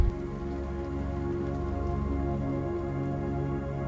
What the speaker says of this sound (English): And just as they were leaving, it started raining